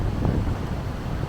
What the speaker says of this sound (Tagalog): Malakas yung hangin, yes.